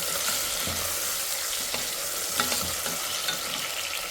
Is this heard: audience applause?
no